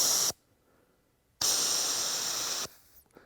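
Two short, loud bursts of bear spray hissing from a canister outdoors on Vancouver Island, British Columbia, each about a second long and separated by a moment of near silence, ending in a faint trailing hiss.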